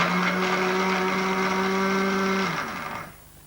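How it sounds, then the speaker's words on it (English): A 1979 home liquidizer whirs steadily as it blends bread into fresh white breadcrumbs, a loud, even motor drone that winds down and stops near the end. "So you just stick them in the liquidizer"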